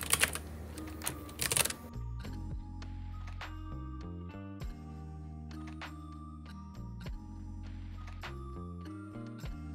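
Someone types a for loop on a computer keyboard in a short, fast burst of close clicking keystrokes lasting about two seconds, followed by sustained stepped electronic tones with no typing.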